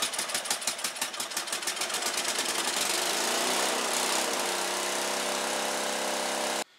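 A Tecumseh 3-10hp small engine cranks with a rapid, rhythmic chugging, then catches and settles into a loud, steady running drone close by before cutting off abruptly at the end.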